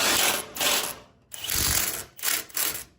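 Ratchet tightening the axle nut on a 2024 Ford F-150 during a leveling kit install: several rapid bursts of close, loud clicking, separated by short pauses.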